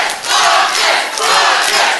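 Crowd at a live fight event cheering and roaring loudly and continuously, a dense wash of voices that swells in two waves with no clear individual speech.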